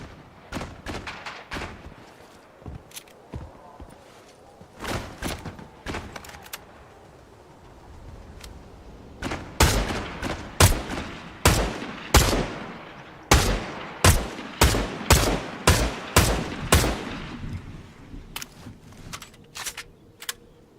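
Gunfire in Fortnite, with sharp loud shots fired singly at first, then in a dense uneven string of close, punchy bangs, with no talk over them.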